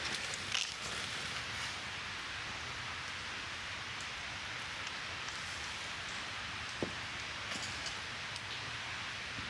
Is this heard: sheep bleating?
no